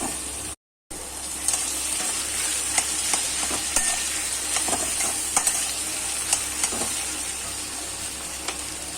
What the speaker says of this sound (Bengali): ওর সাথেই দিয়ে দিলাম টমেটো কুচি আর মেশানোর পালা